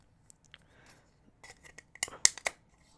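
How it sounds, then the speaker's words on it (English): Scissors snip through beading thread while a Gemduo and O bead pendant is being made: a few faint clicks, then a sharp, close cut with crisp blade snaps, alone with no talking. "I'm gonna take my scissors and cut it."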